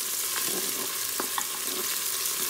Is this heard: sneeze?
no